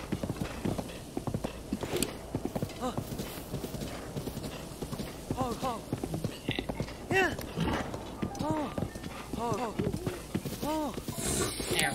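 Horse hooves clip-clopping in a steady rhythm in Zelda: Breath of the Wild, running continuously under near-constant talking.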